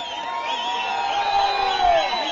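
An audience cheers in a dense, sustained crowd roar with whoops and shouts rising over it, steady and fairly loud throughout.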